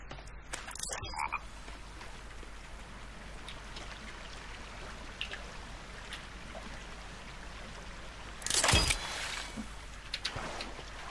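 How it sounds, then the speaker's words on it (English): Frogs croak in the survival video game The Forest, a few scattered calls over a soft trickling ambient bed, with one louder burst of noisy splashing late on and no talk. "I wish you could catch these frogs,"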